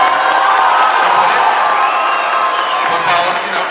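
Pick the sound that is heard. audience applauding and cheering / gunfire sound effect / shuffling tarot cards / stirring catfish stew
audience applauding and cheering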